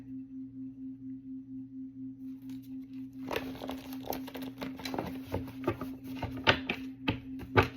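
After a low steady hum, a deck of cards is shuffled in quick papery riffles and flicks, close and fairly quiet.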